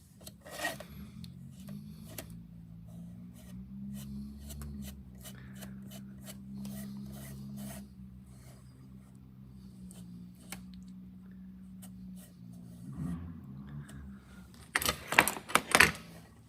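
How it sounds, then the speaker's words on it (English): Sheet metal funnel wiped toward the seam, giving a soft, steady rubbing sound close by, broken by scattered light ticks and scrapes, with a louder burst of scraping at the end. "I'm starting at the funnel and wiping toward the seam."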